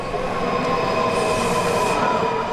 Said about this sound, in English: Here at L'Enfant Plaza, the platform is underground. A train arrives fast.